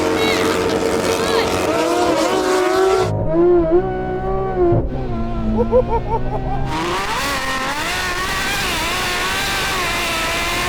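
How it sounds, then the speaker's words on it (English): A car in the Driving Empire racing game launches with loud, rising engine revs and shifting pitch sweeps, the roar briefly thinning mid-run before returning as a full, steady blast. "Come on, Yanni, let's see if you can make your car launch"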